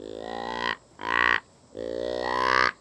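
Three drawn-out, raspy deer grunt notes blown on a handheld grunt call, each lasting under a second with short pauses between, close and moderately loud.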